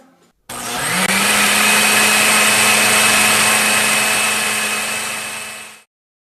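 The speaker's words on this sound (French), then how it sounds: "Après, nous allons mélanger dans le mixeur." A kitchen blender mixes ingredients with quince liqueur, starting abruptly into a loud, steady whirring motor drone that holds for about five seconds before winding down, with no talk over it.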